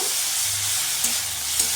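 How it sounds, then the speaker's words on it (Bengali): Ginger, garlic and chilli paste frying with browned onions in a hot pan, a loud, steady close sizzle with a couple of brief stirring clinks. "পেঁয়াজটা ভাজা ভাজা হয়ে গেছে এখানে আমি আদা রসুন লঙ্কার পেস্ট দিয়ে দিলাম দু চামচের মতো"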